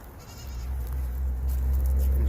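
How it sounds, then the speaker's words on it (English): A small Nigerian goat at a goat rescue bleats softly against a low rumbling background, one brief faint call with no talk. "She's a Nigerian, a very sweet little goat."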